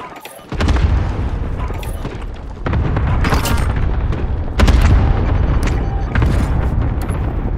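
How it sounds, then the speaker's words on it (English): Cluster strike explosions in Call of Duty: Warzone, a barrage of heavy booming blasts in rapid succession over several seconds, loud and rumbling with sharp bursts, with brief radio voice chatter in the mix. "Cluster strike away."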